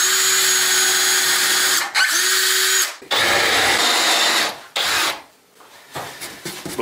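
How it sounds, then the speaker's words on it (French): A power drill bores a 3 mm pilot hole into a solid wood workbench: a loud, close whining motor with grinding bit noise in several bursts, cutting off and restarting before fading into lighter scraping. "avec une autre perceuse, je vais faire un trou de 3 mm et ça va rentrer beaucoup plus facilement"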